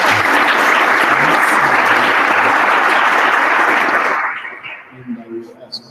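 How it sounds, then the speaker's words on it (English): Audience applause at a world congress general assembly of pharmacy students, steady loud clapping for several seconds that fades out near the end. "let's give a round of applause to our candidate."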